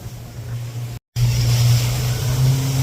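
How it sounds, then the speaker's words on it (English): A fishing boat's engine runs at sea off the UK, a steady low drone with a strong hum and a brief cut in the middle, then resumes slightly louder over wind and water wash. "The engine's on."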